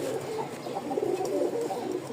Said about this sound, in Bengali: এই কবুতর, এই যে সামনের এটা হচ্ছে নর